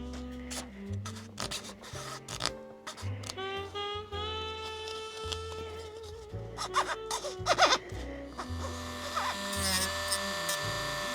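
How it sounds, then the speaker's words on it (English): A Dremel rotary tool grinds down a Tyco slot car's body dome with a steady whining drone that rises and falls in pitch. It is broken by scraping contacts and grows louder and rougher toward the end. "a Dremel to take down most of it"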